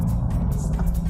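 A BMW M4 engine revs under throttle, a brief low rumbling growl that holds steady and close for about a second.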